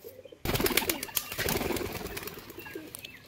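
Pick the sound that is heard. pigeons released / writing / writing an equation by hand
pigeons released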